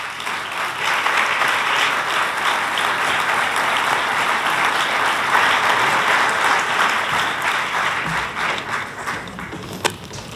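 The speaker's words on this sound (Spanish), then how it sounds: "Un aplaudiment per tots ells." An audience at a film festival screening applauds the documentary's director and guests on stage, with sustained dense clapping from a full room that fades slightly toward the end.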